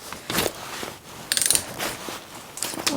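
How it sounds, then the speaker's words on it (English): A torque wrench with a 13mm socket works on engine bolts, its ratchet clicking in several quick rattling bursts with pauses between strokes, close and fairly clear. "I'm just going ahead and using my torque wrench with my 13mm socket"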